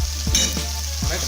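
Chicken with turmeric frying in a pan, a steady sizzle with a few scraping strokes of a spoon stirring through it, close and fairly loud.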